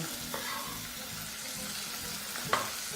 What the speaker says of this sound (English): proceed to add your onions into your pan